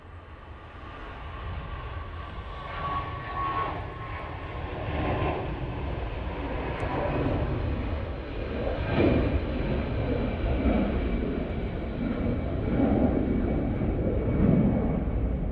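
A jet airliner departs Manchester Airport bound for Milan Linate, its engines a steady, broad roar that swells and holds throughout without any talk.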